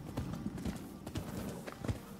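Horse hooves clip-clop in the video game Rise of the Ronin, a series of soft, uneven hoof thuds at moderate distance over faint background sound.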